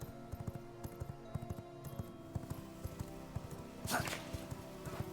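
Horse hooves clip-clopping at a steady walking rhythm in the video game V Rising, a saddled mount moving along with a brief louder burst partway through, close and fairly quiet over faint background tones.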